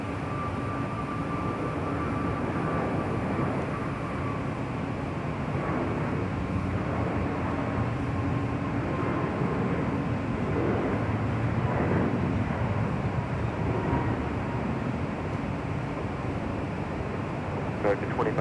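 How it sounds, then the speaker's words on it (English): An American Airlines A321neo takes off on the south side of LAX, a steady roaring jet rumble heard from a distance with wind noise and people talking over it. "Next departure here on the south side, American Airlines Flight 2532 heading to Washington National, A321neo"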